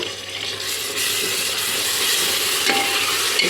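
A spoon stirs tomato into fried onion and ground paste in a hot pan for pulao, the mixture sizzling steadily with scraping strokes, close and fairly loud.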